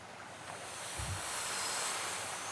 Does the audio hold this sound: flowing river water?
yes